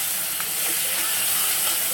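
Spices for egg curry fry in a pan with a steady, bright, close hiss and sizzle that holds evenly throughout with no talking.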